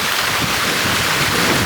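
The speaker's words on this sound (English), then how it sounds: "Nice little waterfall." A small waterfall on Coniston Old Man pours over rocks, a close, loud, steady rush of splashing water with no break and no voices.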